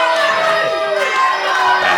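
A wrestling crowd at the BCD Breakout Tournament Final roars and cheers for about two seconds, a dense wash of many shouting voices that stays loud and continuous throughout.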